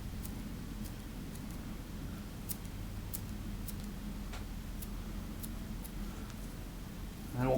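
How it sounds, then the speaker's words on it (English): Scissors make light, sparse snips while trimming a fly-tying head into a bullet shape for a Sculpin pattern, faint close clicks spaced irregularly over a low steady hum. "We're holding the scissors kind of parallel."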